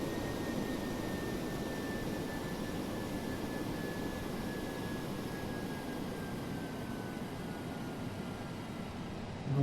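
Jet engines of a DC-8-73F cargo plane on the runway in Flight Simulator X make a steady, close roar with a thin whine held throughout, and no one speaks.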